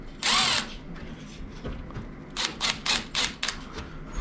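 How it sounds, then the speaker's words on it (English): Power driver running screws into the panels of an LG Multi V HVAC unit: a loud whirring burst near the start, then a series of shorter, rapid driving bursts close by, with no talking. "I'm gonna get some of these back screws in so it holds in place."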